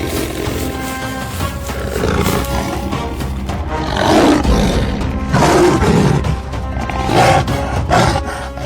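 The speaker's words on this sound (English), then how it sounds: "a deep roar shattered the silence." A lion's deep, sustained roar rolls across an African savanna, loud and dense, swelling in several waves over a constant full-bodied rumble with no pauses or talk.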